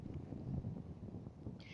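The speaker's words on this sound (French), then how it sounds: "Excusez-moi parce qu'il y a un peu trop de vent là" Strong outdoor wind buffeting the microphone, a steady low rumbling roar that swells and dips throughout, with a brief hiss near the end and no talking.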